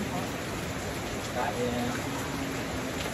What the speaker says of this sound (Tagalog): Lakas naman ang ulan daw.